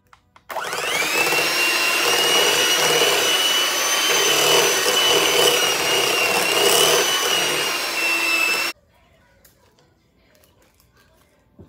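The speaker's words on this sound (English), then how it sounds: "we're going to mix all these ingredients together until they're well blended" An electric mixer blends Kool-Aid pie filling with cream cheese and lemon extract, a steady loud whirring hum that starts abruptly, runs about eight seconds and cuts off to near silence.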